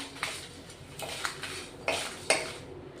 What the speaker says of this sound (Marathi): लवंग आणि काळी मिरी घेतली आहेत आठ दहा तेजपान दोन तीन तेजपानाचे तुकडे करून घेतले आहेत चांगलं भाजून घेऊ आपण आता